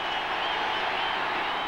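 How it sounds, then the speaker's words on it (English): Football stadium crowd at a Dolphins–Colts game in Indianapolis in 1994, roaring steadily to fire up the Colts defense on third down, a broad sustained wash of noise with no clear breaks. "Crowd trying to lift the Colt defenders"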